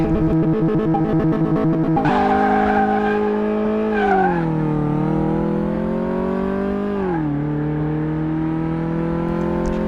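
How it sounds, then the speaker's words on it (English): A car drifting in the video game Car Mechanic Simulator 2018: a steady, droning engine note rises and dips in pitch as the car slides, with a screechy tire-squeal texture, loud and continuous with no talk. "Just trying to drift to the right there."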